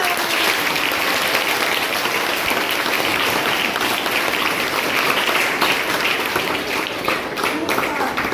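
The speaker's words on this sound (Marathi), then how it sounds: "या विद्यार्थ्यांसाठी जोरदार टाळ्या" Loud, steady applause from a school audience cheering seventh-grade students who wrote and acted in a Marathi play, dense clapping filling the room continuously without pause.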